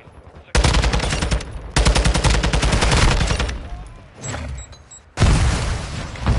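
Assault rifle fire in Modern Warfare 2 multiplayer: long, loud, rapid automatic bursts separated by brief pauses, with a quieter stretch before a final close volley.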